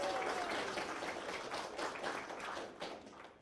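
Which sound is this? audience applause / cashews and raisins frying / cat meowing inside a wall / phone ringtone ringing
audience applause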